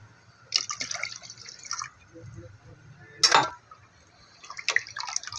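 Water poured and dripping into a pan of Singhara catfish masala curry, with splashes and drips coming in short bursts under occasional speech.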